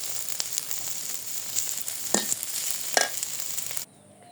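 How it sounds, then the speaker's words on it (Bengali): Banana blossom frying in a pan, a steady close sizzle with a few sharp crackles and stirring clatters, cutting off abruptly near the end. "একদম ভাজা ভাজা খুব সুন্দর করে ভেজে নিব"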